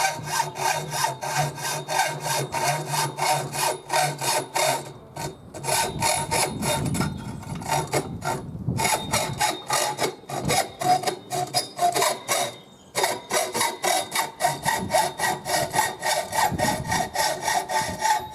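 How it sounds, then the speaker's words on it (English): A hand saw cuts wood in steady, even back-and-forth strokes, a close rasping rhythm that continues with only brief breaks. "we start off by dragging the saw backwards 3 times to give ourselves a groove, and then nice, steady, long strokes"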